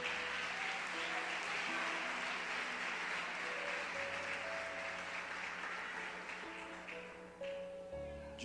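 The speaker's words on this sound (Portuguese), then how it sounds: "Você pode dar um aplauso a Jesus" Congregation applause during a church sermon, steady sustained clapping over soft held keyboard chords, tapering slightly near the end.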